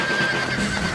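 A horse in the Red Dead Redemption video game whinnies in one short, close burst over a steady layer of game ambience.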